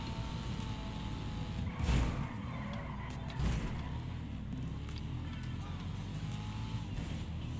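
Cars in the video game GTA Online keep up a steady engine drone, with two brief bursts of tire skidding at around two and three and a half seconds, fairly quiet overall.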